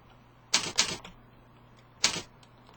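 Computer keyboard keys clack in a quick pair of presses followed by a single later keystroke, crisp and close, over a quiet background hum.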